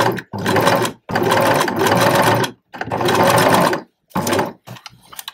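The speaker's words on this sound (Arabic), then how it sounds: "دابا نخيط هاد البلاصه هادي" A sewing machine stitches the waistband of a paneled skirt in loud, close bursts of rapid whirring, separated by brief pauses and ending in short stop-start runs.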